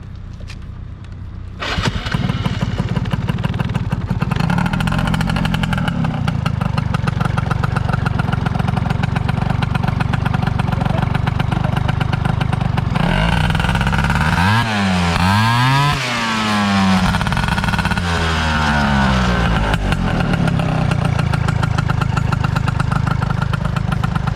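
A Honda Dio ZX scooter engine runs steadily and loudly up close, with a few throttle blips rising and falling in pitch partway through.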